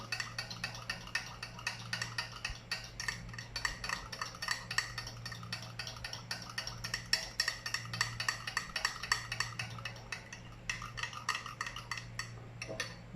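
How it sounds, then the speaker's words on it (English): Donut dough being mixed in a bowl to work out the lumps, a rapid continuous scraping and clicking of a utensil in quick rhythmic strokes, close and moderately quiet, with a brief pause near the end. "we are going to mix and mix and mix"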